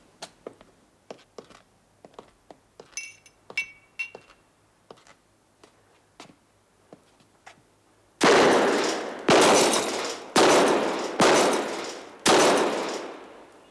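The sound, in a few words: gunshots fired at champagne glasses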